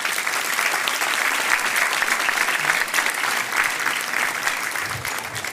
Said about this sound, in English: Ladies and gentlemen, let's have a round of applause for our guests.